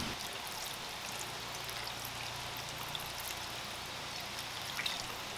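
Water pours steadily into a pot of Polish bigos made with bacon and red wine, a continuous even splash and trickle with no talking.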